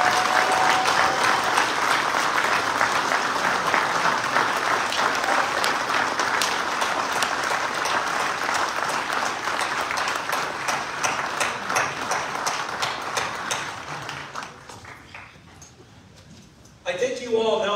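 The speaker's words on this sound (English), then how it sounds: "join me in a round of applause" A large audience at a Knights of Columbus state meeting applauds loudly and steadily for a long stretch, the clapping thinning and fading toward the end.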